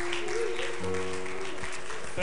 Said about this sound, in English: Give the Lord another great hand clap of praise.